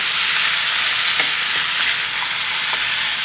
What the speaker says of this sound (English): since it's been sizzling, we should be able to flip